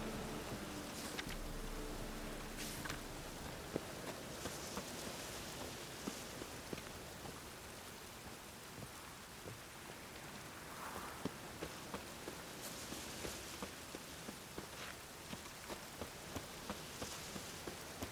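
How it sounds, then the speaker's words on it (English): Rain falling in The Witcher 3: Wild Hunt, a quiet, continuous hiss of drops on surfaces with scattered louder patters, faint and distant, no voices. "Rain again."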